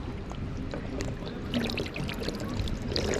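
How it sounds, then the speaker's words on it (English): Outdoor water fountain in a small park in Lisbon runs with a continuous trickling, splashing flow, moderately close, with faint scattered background activity. "there's a water fountain"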